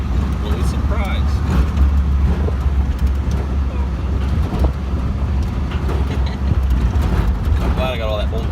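Steady road and engine rumble of an MG car driving, a constant low drone with wind and tire noise throughout, while people talk over it.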